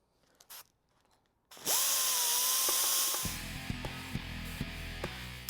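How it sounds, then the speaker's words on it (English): Die grinder grinding out old bearings on a Poison Spyder off-road buggy, a loud steady high-pitched whine that starts abruptly after brief clatter, then drops to a lower, rougher grinding tone with intermittent bites as the tool works the metal. "I'm going to grind out the inside of the die grinder until they fit on and off"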